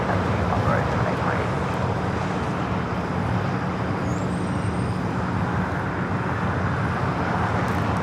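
A Boeing 747-8 freighter arriving at LAX from Anchorage produces a broad, steady jet roar at moderate distance, blended with airport and road rumble, with talk present.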